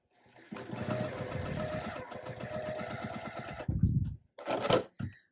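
A sewing machine stitches quilt block pieces together in a steady, fast mechanical chatter for about three seconds, then stops, and a few short handling thumps and rustles follow.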